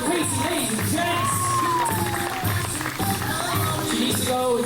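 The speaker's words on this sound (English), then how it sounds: "Big old round of applause for Casey" A holiday-camp audience cheers, whoops and shouts for contestant Casey at the pool, a loud lively mix of voices, some of them children's, with applause-like clatter running throughout.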